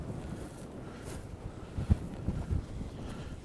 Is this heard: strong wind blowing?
yes